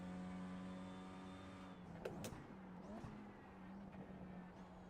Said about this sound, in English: The sound of this car is amazing as well.